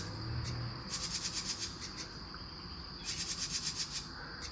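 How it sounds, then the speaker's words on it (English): Birds chirp outside near a front porch in quick, repeated bursts of high chirps that come in two clusters. The birds sound moderately distant over a steady outdoor background of insect-like hiss. "Got some birds up there chirping."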